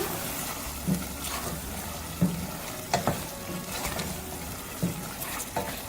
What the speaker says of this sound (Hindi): अब इसको भूनेंगे तेज़ आंच पे।